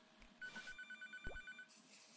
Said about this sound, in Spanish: Me están llamando por teléfono, pero no puedo porque estoy en pleno servicio